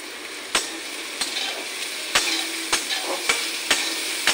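Onions and carrots fry in a pan with salt under a constant close sizzle, while a spatula knocks against the pan every half second or so as they are stirred.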